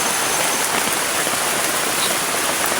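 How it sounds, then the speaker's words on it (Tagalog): Steady rain pours onto the freshly built roof of a hut in rural Samar, a dense, constant hiss of drops drumming close by with no break and no voices. "umulan siya pagkatapos natin paglagay ng bubong ng kubo natin"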